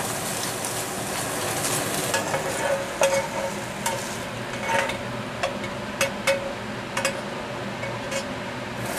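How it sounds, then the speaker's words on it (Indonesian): Steady sizzling of pork stir-frying in a hot wok, with repeated sharp scraping and clanking of a spatula stirring against the metal. "Ini tak oseng setengah matang saja ya teman-teman daging babinya"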